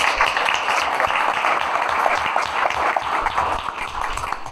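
Audience applause fills a school presentation hall, a steady dense wash of clapping from a crowd that holds at an even level for several seconds without speech on top.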